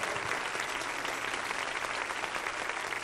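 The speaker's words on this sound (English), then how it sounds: "let's give the Lord a hand clap of joy tonight" Church congregation clapping hands together during a Sunday-style sermon service, a dense, continuous wash of applause filling the room at steady volume.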